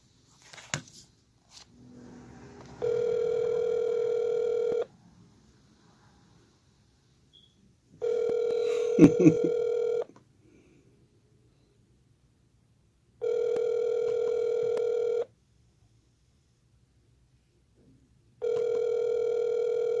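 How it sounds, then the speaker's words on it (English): Telephone ringback tone on an outgoing call, a steady electronic tone repeating in about two-second bursts with long silent gaps between them, clear and close, with brief handling clicks near the start. "Let me call somebody else just to see."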